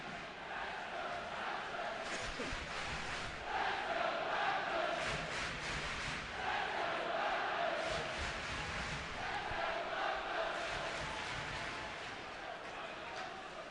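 A loud, boisterous ice hockey crowd fills the arena at a Nottingham Panthers vs Belfast Giants playoff quarter-final, a sustained roar swelling in waves, with a commentator talking over it.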